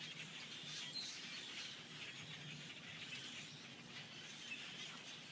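Swallows, small brown birds and blackbirds gathered in a tree during autumn migration in Massachusetts, a faint continuous mix of chirps and twittering at a distance.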